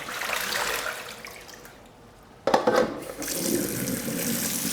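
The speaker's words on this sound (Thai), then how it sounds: "ล้างน้ำเปล่าอีกสักหนึ่งรอบนะครับ" Gotu kola leaves are rinsed under a running kitchen tap, the steady water flow splashing into a sink with a brief pause and a sharper burst before the stream resumes, close and fairly loud with no talking.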